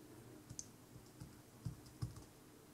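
Text is typed into a speaker app, giving quiet, sparse key taps and clicks spaced irregularly against a low background.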